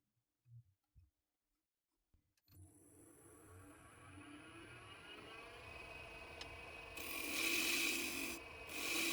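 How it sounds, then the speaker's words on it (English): Wooden salt shaker plug being shaped on a lathe: after a few light knocks the lathe spins up to a steady hum, and a tool rubs and rasps against the turning wood, growing louder toward the end. "I begin the final shaping of both the salt shaker's exterior and the plug itself,"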